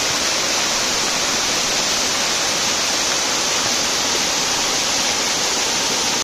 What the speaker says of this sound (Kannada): ಇದೇ ಅದು ಫಸ್ಟ್ ಫಾಲ್ಸ್